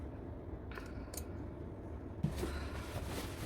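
Scissors snip notches into the seam allowance of a wool half coat's body panel, a few short crisp cuts close by, quiet and without talk.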